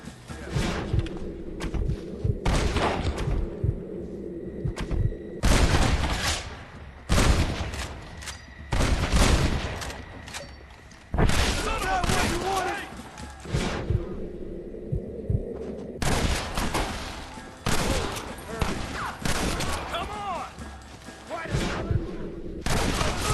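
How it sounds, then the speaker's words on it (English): Gunfire and cover fire in the video game Red Dead Redemption during a gate assault, with loud repeated bursts of shots separated by short lulls and voices calling out between them. "You and I'll provide the cover fire"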